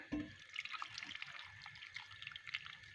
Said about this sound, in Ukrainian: Я добавлю водички, У мене кипячена водичка.